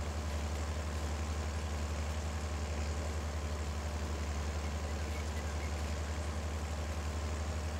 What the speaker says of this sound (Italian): il trattore prende facilmente velocità